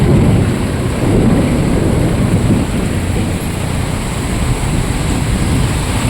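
Heavy rain pours in a dense, loud, unbroken roar, with deep low rumbling underneath like distant thunder, and no voices.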